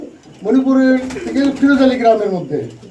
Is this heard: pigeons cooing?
yes